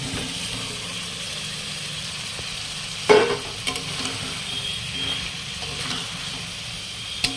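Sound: fried potatoes and pointed gourd stirred into sizzling spice masala

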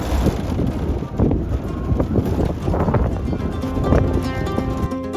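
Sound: gentle wind in the Wadi Rum desert, Jordan

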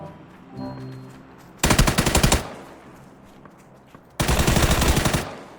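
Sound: gunfire in PUBG video game

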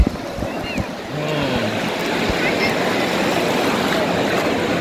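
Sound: sea waves at Digha beach

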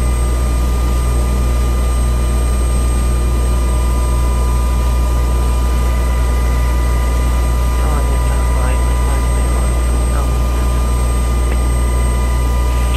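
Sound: UH-60 helicopter taking off in flight simulator video game

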